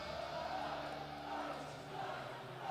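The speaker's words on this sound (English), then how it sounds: "So now the Blue Jay crowd starting to get into it here a little bit at R.A. Fagenal Hall" A home crowd at a women's college basketball game in R.A. Fagenal Hall, a steady roar of voices building slightly, with a commentator-like voice faintly present.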